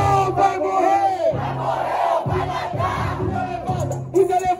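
A battle rap audience at Batalha Da Leste shouts a chant in unison, loud rhythmic crowd voices rising and falling in short phrases, close and filling the space.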